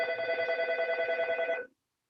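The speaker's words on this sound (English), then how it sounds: "I can't figure out how to turn the phone ringer off." Office telephone ringing in a steady rapid electronic trill for about a second and a half, then cutting off into silence.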